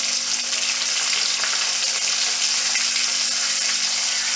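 Loud, continuous sizzling and crackling of curry leaves and green chillies frying in hot oil with urad dal, close up with no voices.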